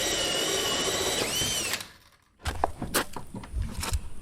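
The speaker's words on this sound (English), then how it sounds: "Now I'm ready to drill a big hole in the wall," A loud power drill whines steadily drilling a big hole in an enclosed trailer wall, then cuts out into a brief pause before bursts of scraping, grinding and knocking follow nearby.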